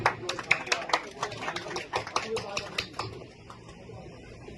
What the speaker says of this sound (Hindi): कई जोरदार तालियां।